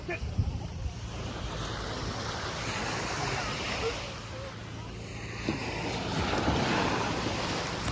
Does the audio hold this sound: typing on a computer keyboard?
no